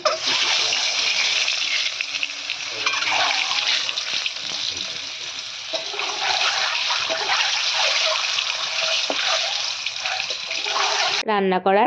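Cooking oil pours from a jar into a bottle in a home kitchen, a steady, close, continuous glugging trickle that runs unbroken for most of the stretch before a short high tone at the end.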